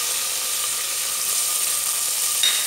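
Onions and green chili frying in a pan give a soft, continuous sizzle at moderate level, steady throughout with a brief brighter hiss near the end.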